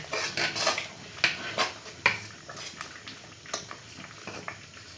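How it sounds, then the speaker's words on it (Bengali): Khichuri being stirred in a metal pot gives a run of scraping and knocking clatters, a few sharper clinks standing out, close by and fairly quiet, with no talking. "দিয়ে ভালো করে খিচুড়িটাকে আমরা নাড়িয়ে নেবো"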